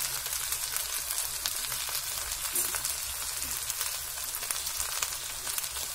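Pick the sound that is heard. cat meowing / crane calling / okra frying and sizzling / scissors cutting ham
okra frying and sizzling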